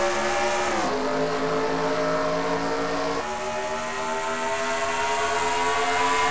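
Race cars in a NASCAR Cup Series video game roar together at the green flag at Kansas, a loud, dense engine drone that shifts pitch as they accelerate and holds steady throughout.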